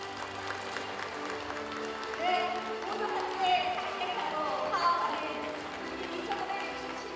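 A crowd cheers and murmurs as a 6.4 m long rice cake is cut at a Buddhist New Year dharma ceremony, a dense, steady wash of voices with rising swells and a few sharper peaks throughout.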